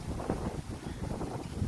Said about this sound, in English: Wow, I apologize for the wind.